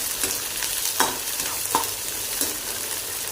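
Onion and garlic fry steadily in a pan, with a constant close sizzle and a few scraping stirs of a spatula at irregular intervals.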